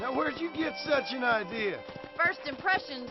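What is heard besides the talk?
No everyday noises stand out.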